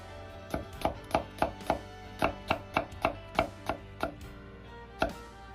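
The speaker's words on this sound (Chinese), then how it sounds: "从中间切开，" A knife cuts half a cucumber on a cutting board, first through the middle and then into slices, with a series of crisp, evenly spaced chops that thin out toward the end, close and alone.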